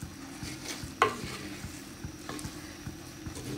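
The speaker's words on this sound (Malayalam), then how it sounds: "ഇനി ഇതിലേക്ക് അരപ്പ് ഇട്ട് കൊടുക്കാം. അരപ്പിട്ടിട്ടൊന്ന് ഇളക്കിയെടുക്കാം." Ground coconut paste is stirred into cooked pumpkin erissery in a pot: soft, repeated scraping and wet stirring, with one sharper clack of the spoon early on. Quiet and close, no talk.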